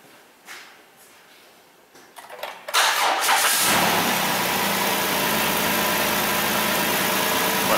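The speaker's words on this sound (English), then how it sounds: "it's going to ask us to start the engine" A car engine cranks briefly, catches, and settles into a loud steady idle after a few quiet clicks and rustles, during a battery test.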